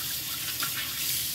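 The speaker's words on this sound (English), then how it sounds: "as I'm washing my hands right now" Water runs steadily from a tap while hands are washed, a brief close hissing splash at moderate volume.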